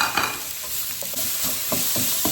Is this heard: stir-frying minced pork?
yes